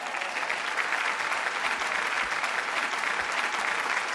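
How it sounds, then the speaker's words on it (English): Steady applause from an audience at the 2021 Aurora Prize ceremony on San Lazzaro Island, Venice, greeting the prize laureate; dense, even clapping holds throughout without fading. "let's give a round of applause for Julian Lusenge"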